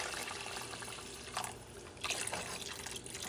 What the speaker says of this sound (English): Going to add some water now.